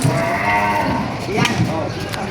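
A water buffalo (carabao) at a livestock sale moos loudly and close by, a long low bellow, with the bustle of the market behind it.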